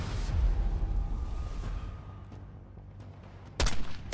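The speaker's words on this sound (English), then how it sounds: "Got mortar fire." Mortar rounds and gunfire in Call of Duty Black Ops 6: a rumbling low blast at the start fading into scattered distant shots, then a sharp loud crack near the end, no speech.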